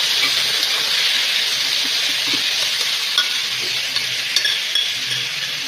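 Mustard seeds stirred in hot oil in a pan give a steady, loud sizzle and crackle with scattered small pops and faint scrapes of a spoon, continuing unbroken throughout with no voices.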